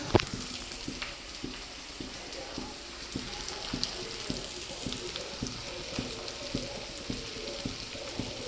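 Onion frying in a pan for a quick homemade chutney: a quiet, continuous sizzle with soft, regular clicks and taps of a utensil against the pan.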